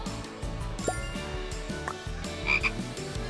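Repeated low frog croaks in a steady, pulsing rhythm, with a few brief higher chirps and clinks layered on top, fairly close and continuous.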